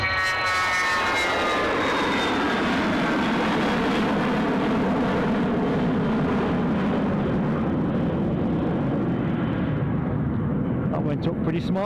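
Jet airliner taking off for Faro from Edinburgh, a loud sustained engine roar with falling whine tones that fades slightly toward the end.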